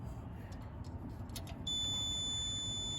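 A multimeter's continuity beep sounds while probing the windings of a compressor, a steady high electronic tone that starts partway through and holds to the end over a low background rumble.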